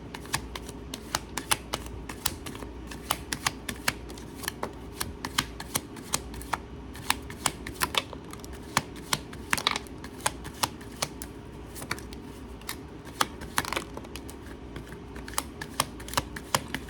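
Tarot cards being shuffled and handled, a steady run of crisp riffling clicks and snaps close up, continuing throughout with no talking.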